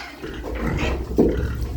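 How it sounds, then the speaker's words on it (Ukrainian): Four fattening pigs squeal and grunt in a brief, rough, noisy burst close by, the loudest cry coming in the final moments. "зараз свинки будуть кричати, як навіжені"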